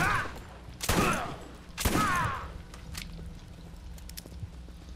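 Golden gun blasts in the Borderlands shooter game, two broad booming shots about a second apart, fairly loud, followed by quieter scattered clicks and low game ambience.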